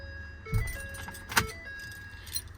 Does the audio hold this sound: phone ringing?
no